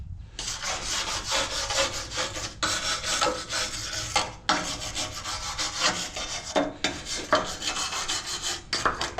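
A wire brush scrubs surface rust off a 1972 C-10 truck in loud, close, continuous rasping strokes, broken by brief pauses between passes, with no voices over it.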